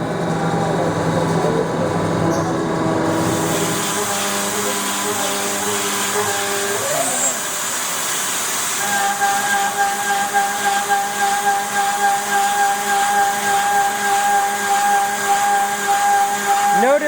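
Haas CNC machine traversing at 2,400 inch per minute rapids, a steady loud whine and hiss with rising tonal sweeps as the axes move, continuous machine-shop drone throughout.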